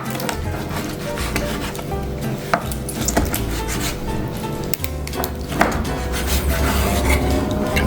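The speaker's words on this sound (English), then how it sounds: "Chop this up one at a time. And you could hear that crispy skin." A knife chops through crispy-skinned fried chicken on a wooden board, giving a dense run of crunchy cuts and knocks, close and fairly loud.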